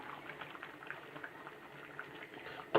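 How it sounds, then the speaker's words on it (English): A pot of food bubbles gently on the stove with the heat switched off, giving a steady, soft, close simmering burble and popping throughout, then a brief louder clatter right at the end. "I've now turned the heat off and leave it letting it just bubble away"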